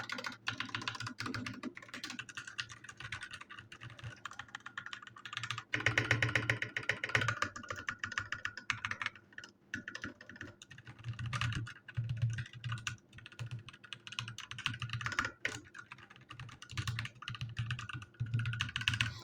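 Rapid typing on a 60% mechanical keyboard with red switches, a busy stream of close clacking keystrokes with brief pauses and bursts of heavier key presses.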